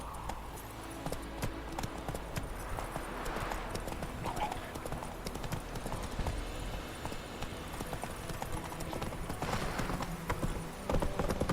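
Horse hooves galloping in the video game Witcher 3: Wild Hunt, a steady rapid clip-clop rhythm running throughout under game ambience, with no talk.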